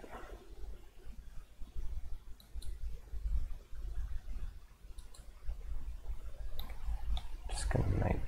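Faint, sparse computer mouse clicks during 3D modeling work, a few soft isolated ticks over a low steady background hum.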